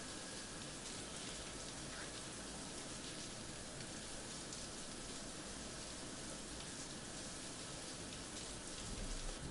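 Rain falls steadily in Night City in Cyberpunk, a continuous, even hiss of rain on surfaces heard faintly on its own.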